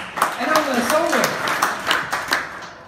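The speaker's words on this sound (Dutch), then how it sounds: "Applaus, Wim." Applause at a business networking event in a stadium venue, scattered hand claps rising among the crowd while a voice speaks over them.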